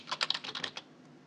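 A quick burst of about eight keystrokes on a computer keyboard, crisp and close, with clicks in an uneven rhythm before the typing stops.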